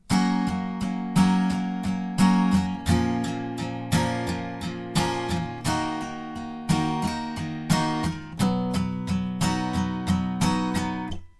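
Acoustic guitar chords, played with a capo, are strummed in a steady, repeating rhythm, bright and close, with chord changes every few strokes and no voices.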